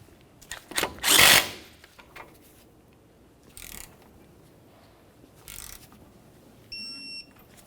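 A 1999-2006 Chevrolet Silverado tie rod end mounting nut is run down with a power tool in short bursts, one longer whirring burst then a few brief zips, with quiet pauses between them.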